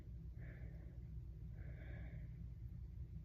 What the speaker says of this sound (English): I'm sorry if I'm heavy breathing into the camera.